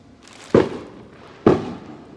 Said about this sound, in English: someone's lighting off fireworks and it's not even noon and we're in August